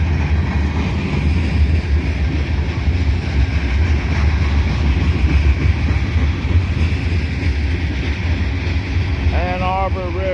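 An Ann Arbor Railroad freight train rolls past at Abbeville, a steady loud rumble of wheels and cars with wind buffeting the microphone, and a voice talks over it near the end.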